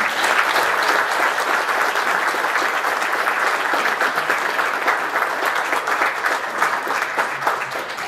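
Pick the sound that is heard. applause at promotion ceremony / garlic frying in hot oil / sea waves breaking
applause at promotion ceremony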